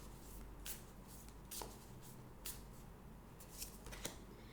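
Tarot cards being shuffled and drawn by hand, with faint soft rustles and several crisp flicks and snaps of cards spread across a few seconds, quiet and close, with no talking.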